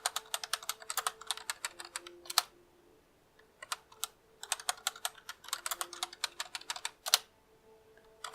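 Quick bursts of computer keyboard typing, crisp and close, with short pauses between flurries of keystrokes.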